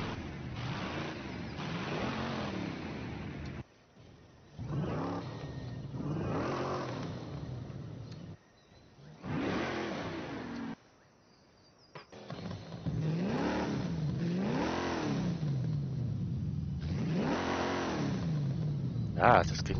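A twin-turbo Oldsmobile Toronado, a front-wheel-drive US car in a video game, revs repeatedly in rising and falling surges separated by brief gaps, with someone talking over it.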